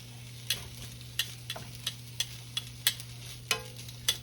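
Thin slices of leftover Thanksgiving turkey sizzle in a hot skillet, a steady close frying hiss broken by sharp scraping taps of a spatula at irregular intervals, with no talking.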